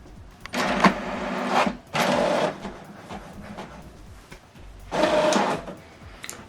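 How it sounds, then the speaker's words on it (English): An HP Deskjet 2820e printer prints a document, with three separate bursts of whirring mechanical noise from the print carriage. Each burst lasts about a second and is separated by quieter gaps, close by and with no talk. "Document is printing."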